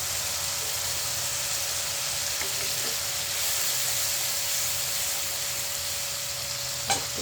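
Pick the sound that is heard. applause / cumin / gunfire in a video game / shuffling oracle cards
cumin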